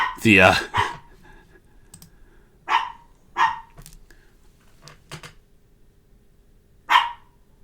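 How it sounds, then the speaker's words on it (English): A dog barks in scattered single yaps at a moderate distance, with a person's voice briefly at the start and faint clicking in between. "Sorry about the dog again. I don't know what she's barking about."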